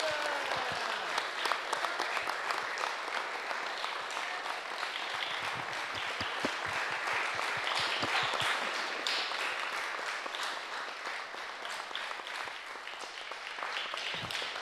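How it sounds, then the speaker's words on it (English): An audience applauds at a legislative resolution presentation: sustained, dense clapping from a crowd that runs for about fifteen seconds and eases slightly toward the end. "can we please give him a round of applause?"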